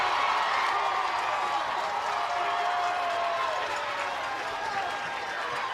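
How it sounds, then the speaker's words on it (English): A baseball crowd at a West regional game of the IBWS US Championship cheers and claps steadily after a two-out stand-up triple, a broad, loud roar sustained throughout with some voices and whoops mixed in. "And that fires up this West crowd immediately."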